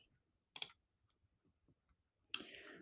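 A computer mouse click on a microphone icon while setting up an audio/video recording, heard as two sharp clicks in a quiet room, the second followed by a brief bright rustle.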